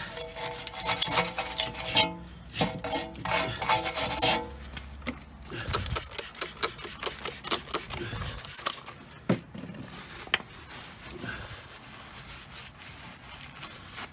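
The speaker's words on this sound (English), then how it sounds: "Let's give this a back plate a bit of a scrub." Someone scrubs the rear brake back plate of a Seat Ibiza by hand with rapid rasping brush strokes at close range, coming in bursts with short pauses.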